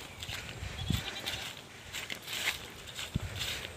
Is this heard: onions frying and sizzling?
no